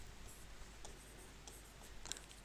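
Pen or pencil scratching on paper while working a math problem by hand, faint and close with a few sharper strokes over a quiet background hum.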